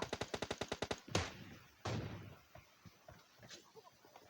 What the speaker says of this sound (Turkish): Al silah sesleri